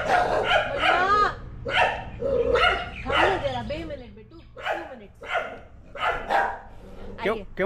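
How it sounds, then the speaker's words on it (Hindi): Several dogs at a dog shelter bark repeatedly at a stranger, a busy overlapping chorus of loud, close barks and yips with brief pauses, while people talk beneath. "क्यों क्यों कुत्ते वो ये करे भौंक रहे?"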